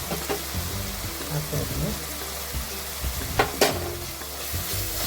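Ginger garlic paste frying with turmeric in a pan for paneer masala, a close, crackling sizzle broken by stirring and scraping strokes, with a brief spoken remark over it.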